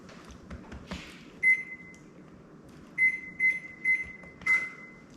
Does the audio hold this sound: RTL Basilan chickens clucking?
no